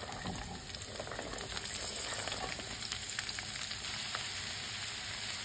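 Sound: chopped vegetables frying in cumin, green chili and garlic tempering

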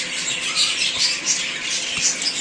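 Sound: bird squawking

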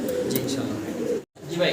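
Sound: pigeons cooing

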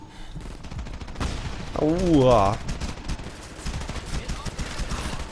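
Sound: gunfire in the video game Frontlines: Fuel of War

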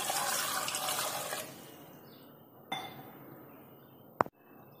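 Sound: pouring water into pressure cooker

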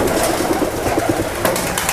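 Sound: pigeon cooing

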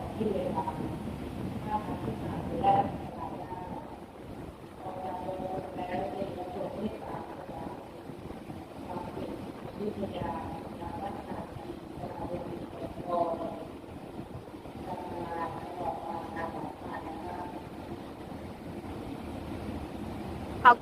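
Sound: train departing station toward Don Mueang

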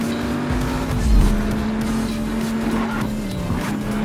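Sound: car doing a handbrake turn in the video game Just Cause 3

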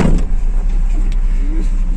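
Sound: car engine running

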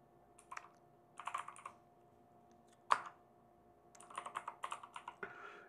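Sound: typing code on a computer keyboard in Jupyter

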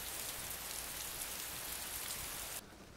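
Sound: rain falling at night in video game Persona 4

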